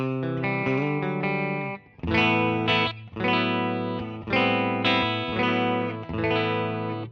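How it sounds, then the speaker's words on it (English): A clean electric guitar played through a Kemper Profiler on a Deluxe Reverb amp profile picks a short run of single notes, then rings out a series of bright, sustained strummed chords, loud and close with no talking. "here's a deluxe reverb for clean stuff."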